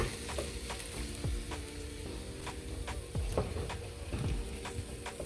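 Shrimp and crab claws sizzle in a pan over low heat, giving a steady close frying hiss with small pops and a few clinks of a utensil stirring.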